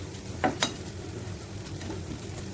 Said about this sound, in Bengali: মশলাগুলোকে ভালোভাবে পেঁয়াজের সাথে মিশিয়ে কিছু সময় ধরে রান্না করে নিতে হবে।